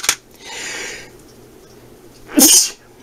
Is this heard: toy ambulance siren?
no